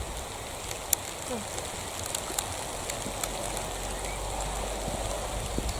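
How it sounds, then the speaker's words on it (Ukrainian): Steady patter of rain falling, a soft broadband hiss with scattered drip clicks, continuous and even throughout. "О, який дощик туди. Хай собі падає."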